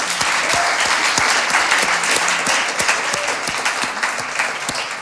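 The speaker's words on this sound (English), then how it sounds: "So let's give a big round of applause to our amazing panelists." A conference audience gives a big round of applause to a panel on simplifying on-chain transactions, loud and continuous clapping throughout, with a few sharper individual claps standing out close by.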